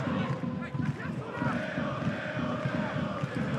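A stadium crowd at a Europa League qualifier football match between Mjällby and Red Bull Salzburg, a dense, steady roar of massed voices and chanting that fills the whole moment, heard from the stands at a distance.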